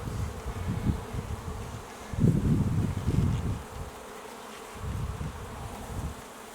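Honeybees buzz during a spring inspection of a hive or nuc, a dense close drone that swells and fades in waves as frames are handled.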